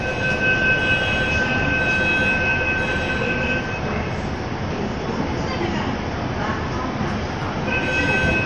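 A Mumbai Metro Line 7 train runs between stations on the Gundavali to Dahisar route, its loud, steady rumble and rolling rail noise filling the cabin with high whining tones throughout, heard from inside the carriage.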